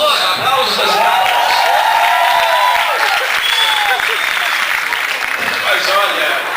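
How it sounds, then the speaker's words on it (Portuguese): A large audience at an awards ceremony breaks into loud, sustained applause with cheers and whoops mixed in. The clapping fills the room continuously and evenly, with crowd voices rising beneath it. "Aplausos das Intactos."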